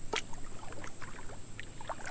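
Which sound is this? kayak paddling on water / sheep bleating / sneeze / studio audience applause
kayak paddling on water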